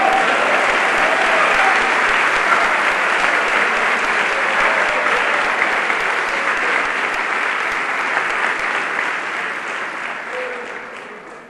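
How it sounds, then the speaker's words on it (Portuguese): Sustained, dense applause from a church congregation during a Portuguese-language sermon, loud and continuous throughout before gradually thinning toward the end. "Vocês podem aplaudir o Senhor Jesus Cristo."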